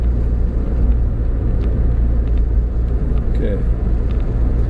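Steady low road rumble from a car driving through the small town of Byfield, running continuously from start to finish beneath a brief spoken word.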